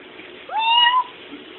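A cat lets out a single clear, rising meow, close and fairly loud, over a faint steady background hiss.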